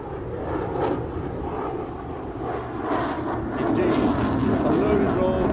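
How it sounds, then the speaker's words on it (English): An FA-18 jet performing a loaded roll at the Farnborough International Airshow, its engine roar steady and loud throughout, growing slightly stronger toward the end, with an announcer talking over it. "In comes the FA-18."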